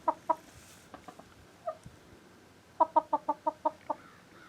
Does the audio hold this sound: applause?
no